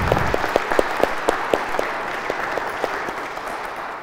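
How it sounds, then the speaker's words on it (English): An audience at a talk applauds after a speaker, with a steady wash of clapping and scattered sharper claps that gradually thin out. "please give another round of applause to Father Granados for giving that."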